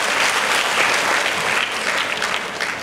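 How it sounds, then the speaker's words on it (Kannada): Loud, dense applause from an audience at a public event, a sustained wash of clapping that holds steady for a few seconds before cutting off. "ಅದಕ್ಕೆ ಅವರಿಗೆ ಜೋರಾದ ಚಪ್ಪಾಳೆಯನ್ನು ಅವರಿಗೆ"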